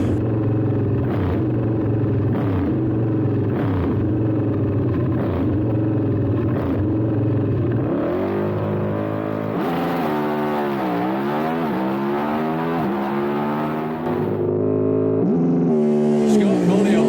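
Drag racing cars at a Festival of Power race day hold a loud throbbing engine rumble, then launch with rising, wavering revs that sweep up and down over several seconds.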